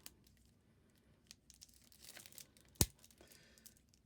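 Cellophane wrap is peeled and torn from a Marvel Champions card game box, heard as soft, intermittent crinkling and rustling close by, with one sharp snap partway through.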